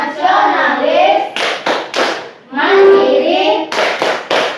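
A classroom of children performs a rhythmic patterned clapping routine, bursts of sharp claps alternating with group chanting voices, loud and close in a school setting.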